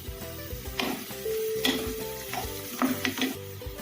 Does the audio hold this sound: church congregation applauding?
no